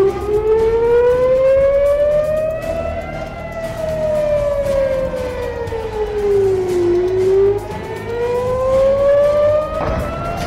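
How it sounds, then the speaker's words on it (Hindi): Civil defense warning sirens sounding across Israel during a missile and drone attack, a loud, continuous wail rising and falling slowly in pitch, with overlapping sirens from several directions and no voices. "वैसे ही पूरे इजराइल में चेतावनी के सायरन बज उठे"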